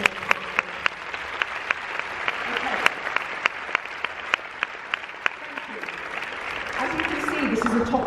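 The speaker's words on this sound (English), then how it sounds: "Can you give another warm round of applause?" An audience at a European Parliament EuroPCom 2017 event claps steadily for several seconds, sharp individual claps standing out over a broad wash of applause.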